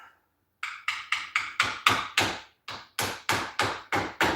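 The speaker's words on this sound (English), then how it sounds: "now I'm going to take and use a little hammer on that" A small hammer taps a pinion gear on a Ford 9-inch rear end in a steady run of about a dozen sharp, ringing strikes, close by, with one short pause partway through.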